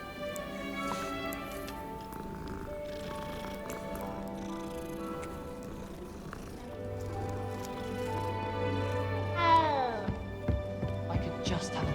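Several cats meow now and then amid ambient game music and sound in a Harry Potter wizarding-world game, the calls soft and mixed into the background, with no talk.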